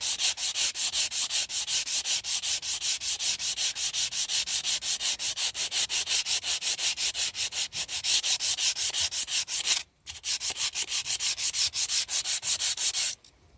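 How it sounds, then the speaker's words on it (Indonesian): Rapid, rhythmic back-and-forth rasping of sandpaper on a rusty machete blade, close and continuous, with a brief pause near the end. "Cukup diamplas saja."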